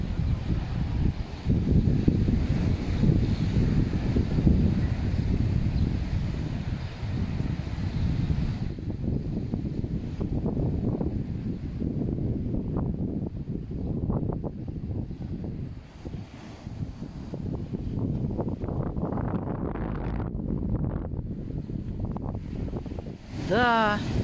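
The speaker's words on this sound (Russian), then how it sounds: "Да, сегодня какой шторм." Stormy wind and crashing surf at Riviera beach in Sochi, a constant blustery roar of gusts and waves with wind buffeting the microphone and people talking now and then.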